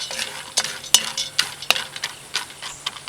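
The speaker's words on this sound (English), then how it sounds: "Now we're going to give our peanuts a light stir so that they're all evenly" Peanuts stirred in a metal pan with a utensil, producing irregular scraping clinks and rattles at close range over a faint sizzle, with no talking.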